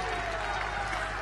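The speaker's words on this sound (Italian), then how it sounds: "Goditi i tuoi applausi!" Audience applause for pizza freestyle champion Nicola Matarazzo at a world championship, a dense steady wash of clapping that fills the whole short moment without a break.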